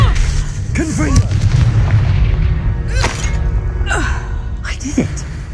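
A Confringo fire spell in Hogwarts Legacy goes off in booming blasts amid loud, dense game effects, with sharp whooshing sweeps and a spoken incantation over the clash.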